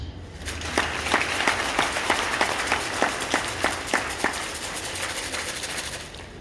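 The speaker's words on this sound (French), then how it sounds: "Ça s'applaudit." An audience applauds at a French speaking event, a steady wash of clapping with a few sharper distinct claps in a regular rhythm, fairly close and sustained to the end.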